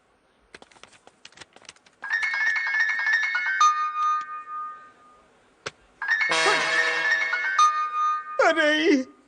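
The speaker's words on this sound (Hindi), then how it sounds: "अरे अंजलि काहे खातिर फोन करत आरी?" A phone ringtone plays in two bursts of bright, repeating electronic chimes, separated by a pause with light clicks, then a brief warbling tone.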